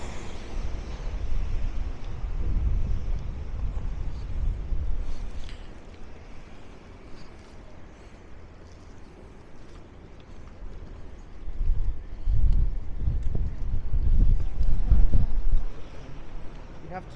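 Gusty wind on a Bremen street buffets the microphone in low, rumbling surges, strongest at the start and again near the end, with calmer stretches between.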